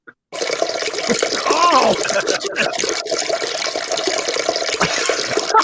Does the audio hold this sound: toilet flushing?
yes